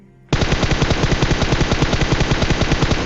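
A sustained burst of automatic gunfire from a shooting video game starts abruptly and rattles on without pause, loud and close, with rapid evenly spaced shots and no voices.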